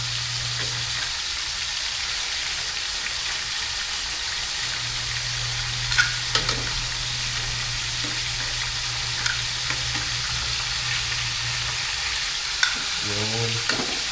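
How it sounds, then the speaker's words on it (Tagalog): Pork leg (pata) sizzles and crackles steadily in a pan for humba, a continuous frying hiss with occasional louder pops and a brief clatter near the end. "yun ang pagka na-prito yan"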